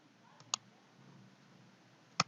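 Two crisp computer mouse clicks, close and fairly sharp, separated by more than a second of quiet room tone, with no talking.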